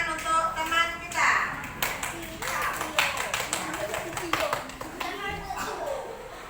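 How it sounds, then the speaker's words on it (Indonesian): Children in a classroom clap for a classmate, a burst of scattered, uneven claps over a few seconds, with young voices and an adult talking throughout. "Tepuk tangan untuk teman kita."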